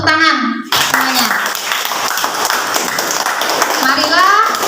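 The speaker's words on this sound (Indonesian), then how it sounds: "Coba tepuk tangan semuanya." Children in a classroom clap their hands together in a dense, continuous burst, with a voice and adult talk heard briefly at the start and end.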